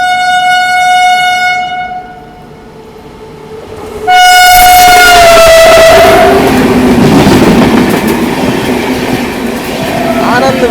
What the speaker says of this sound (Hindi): सामने से आ चुके भाई ओवरटेक करने के लिए हमें आनंद विहार रीवा सुपरफास्ट एक्सप्रेस।